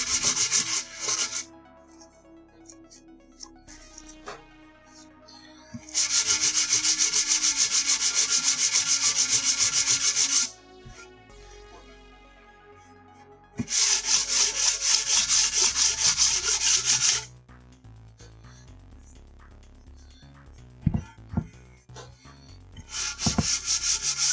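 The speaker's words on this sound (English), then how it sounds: "I am destroying this sandpaper" Wood hand-sanded with sandpaper in a garage, long loud rasping strokes in bursts separated by quieter pauses with small knocks and handling sounds.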